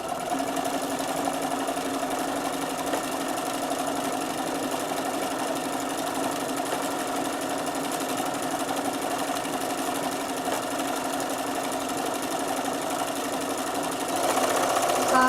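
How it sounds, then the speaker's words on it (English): A sewing machine runs a decorative umbrella-shaped fancy stitch, giving a steady, continuous whirring hum at even speed with no talking. "the machine will only sew as fast as it can do that particular stitch"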